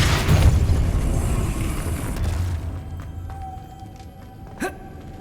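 Depulso spell cast in Hogwarts Legacy: a deep booming blast that rumbles and fades over a couple of seconds, followed by quieter ambience and a small sharp pop near the end.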